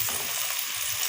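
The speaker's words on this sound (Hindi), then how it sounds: "ये हल्की आंच पे जो ना रख के हमने फ्राई कर लेना है" Boneless chicken pieces fry on low heat in a pan, giving off a close, continuous sizzle with faint crackling and no talk.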